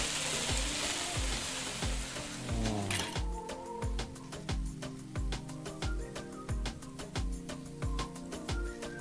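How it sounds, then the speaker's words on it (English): Onions frying in a pan in the cooking game Venba, a bright sizzle at first that gives way to a steady looping rhythm of game music beats and stirring clicks, moderate and without speech. "Get the onions in."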